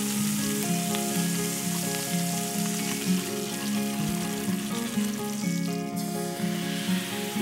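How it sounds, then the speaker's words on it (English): Sage leaves sautéing in a pan until crispy, a continuous crackling sizzle at a steady moderate level, with a faint low hum underneath and no speech. "And I'm just going to saute in the pan,"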